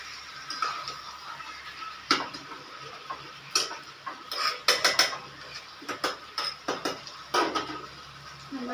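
Spiced meat and potatoes being stirred and fried in a pan for a Bengali meat curry, with repeated scraping clinks of a utensil against metal at an uneven rhythm over a low sizzle, close by.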